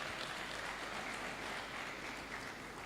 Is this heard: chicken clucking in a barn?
no